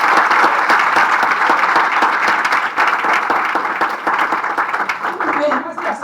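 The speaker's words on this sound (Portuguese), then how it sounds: "Podemos aplaudir nosso Deus." A church congregation at a Portuguese-language worship service applauds loudly, a dense and sustained wash of many hands clapping that holds steady for the whole stretch and thins slightly near the end.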